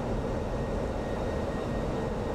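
An F-16C jet in the DCS flight simulator buffets at high angle of attack, giving a steady, loud, rumbling broadband roar of airflow and engine with an unbroken shaking texture and no talk.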